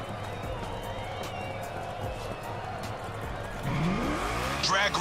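A Ford Mustang engine in The Crew Motorfest idles and then revs up sharply near the end, its pitch sweeping upward, with music and talk running over it.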